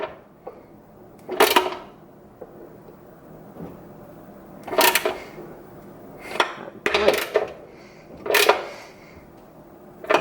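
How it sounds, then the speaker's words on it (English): Tightening bolts on a Lawn-Boy F engine with a hand tool, several short bursts of metallic ratcheting and clanking close by, separated by quiet pauses, with no talking. "Now I'm just going to tighten them down."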